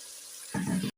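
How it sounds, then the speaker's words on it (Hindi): Water is splashed into a pan of masala frying for a korma, a brief close gush and sizzle over the steady hiss of frying that cuts off abruptly. "थोड़ा सा हम डालेंगे पानी, ताकि जगह हमारा अच्छे से साफ हो जाए"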